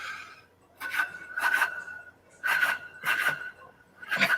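A person vocally imitates steel train wheels running on rails, producing breathy rasping bursts in an uneven chugging rhythm, close and fairly loud, with short pauses between groups.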